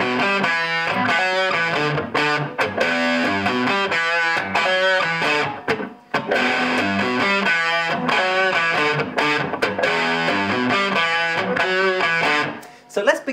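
Distorted electric guitar plays a classic rock riff, a loud, close, punchy repeating pattern of chugging notes with brief gaps, heard alone without talk.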